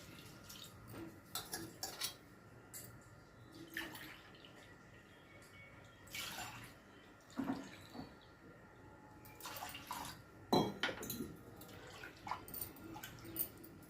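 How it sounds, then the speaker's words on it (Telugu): Water is poured from a glass onto washed toor dal in a kitchen vessel: soft splashing and trickling with a few clinks of metal utensils, quiet and close, with no talking. "నెక్స్ట్ ఒక గ్లాసుకి 3 గ్లాసులు వాటర్ పోసుకోండి"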